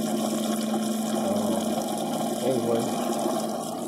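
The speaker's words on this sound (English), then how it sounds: "it looks like some water's coming out where the drive shaft goes up in there" Water rushing and splashing steadily from a Yamaha outboard motor being flushed with a garden hose, leaking near the drive shaft, a continuous close wash with someone talking over it.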